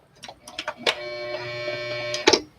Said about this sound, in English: I gotta make it tight before I lock it in by sewing it with the sewing machine.